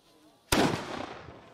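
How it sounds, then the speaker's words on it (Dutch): A single historic muzzle-loading cannon from a heritage battery fires one sharp, loud blast that rolls off into a long fading rumble, preceded by a faint quiet stretch where the fuse burns. "Dit is mijn eigen kanon."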